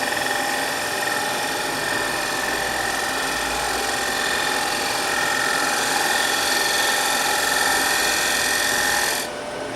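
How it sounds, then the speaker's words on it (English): Steady close scraping whir as a shear scraper cuts across a turned wooden plate spinning on a wood lathe, the motor hum constant for about nine seconds before it drops off at the end. "Shear scrape."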